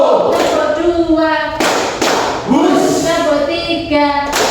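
Two separate hand claps from a classroom clapping game, a couple of seconds apart, land over a steady background of children's voices chanting along.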